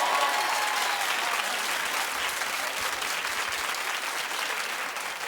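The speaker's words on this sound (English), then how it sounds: "Clap if you think that they're making out." Studio audience at a daytime talk show clapping loudly and steadily, a dense sustained wash of applause with no talk over it.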